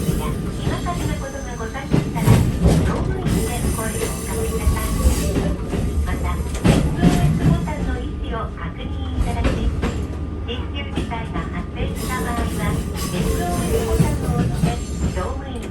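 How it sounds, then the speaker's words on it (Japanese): A train on the Muroran Main Line in Hokkaido rumbles along with rhythmic clanks and rattles as its wheels pass over track joints and switches, steady and close, with brief metallic bumps. "列車は何度も分岐器で転線し、室蘭本線の上り本線をまたぎつつ、下り本線に入線します"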